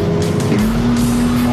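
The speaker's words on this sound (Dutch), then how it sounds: "Surveillanten Peter en Marcel zitten achter twee motorrijders die stevig doortrekken binnen de bebouwde kom" Two motorcycles speed hard through a built-up area with a police vehicle close behind, a loud continuous engine drone rising in pitch as they accelerate, with no talk.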